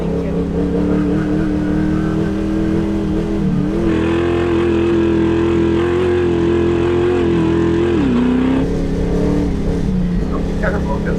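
Loud, steady engine drone of an 830 HP Bronco King of the Hammers off-road racer at speed, pitch shifting slightly around gear changes, heard from inside the vehicle.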